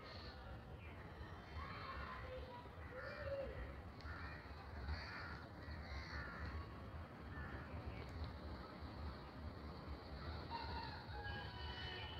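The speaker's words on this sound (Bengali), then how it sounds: "এই দেখেন এখানে অনেক অনেক কাক।" Many crows caw under a cloudy sky, a flock calling again and again at a distance over steady rushing wind, faint and layered with no clear pauses.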